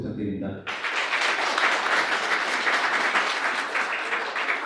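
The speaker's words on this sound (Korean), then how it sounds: "박수 부탁드립니다." Guests at a wedding ceremony break into applause after the officiant's address; a voice speaks briefly, then sustained, fairly loud clapping fills the room.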